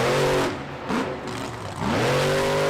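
Monster truck engine at a Monster Jam freestyle event in San Francisco, revving hard with rising and falling pitch during a wheelie, loud and continuous with a brief dip mid-clip.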